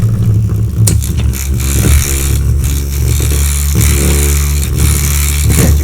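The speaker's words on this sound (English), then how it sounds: "It's actually spinning out of control." A Monsuno Lava Slash Wild Core spinning toy whirling out of control, loud and close, with a continuous rough whirring broken by repeated scraping clatters and knocks.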